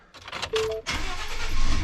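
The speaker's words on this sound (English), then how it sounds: "Let's turn the truck on wherever the keys are." A Ford truck engine starting: a few quick clicks, a short crank, then the engine catches and settles into a rising, steady idle close by, with no talking.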